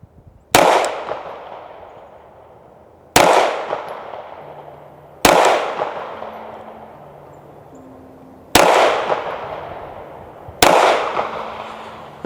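Five separate rifle shots from a handgun fitted with an Olight Osight S micro red dot, fired outdoors at a slow, even pace, each a sharp loud crack with a ringing decay. A faint tone sounds between shots.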